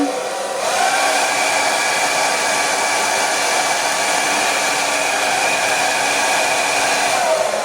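A Philips BHD342/10 hair dryer switches on and blows hot air with a loud, steady whirring roar that holds constant throughout, with no talking.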